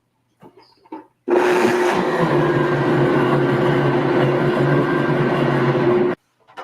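An electric blender runs for about five seconds, grinding a garbanzo bean flour mixture with a loud, steady whir, starting and stopping abruptly between brief quiet handling noises.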